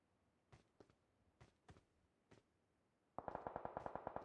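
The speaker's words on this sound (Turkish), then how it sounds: "Silah sesleri." A few scattered single gunshots crack at irregular intervals, then a rapid burst of automatic fire rattles out loudly in quick, even succession, in the video game PUBG Mobile on the Livik map.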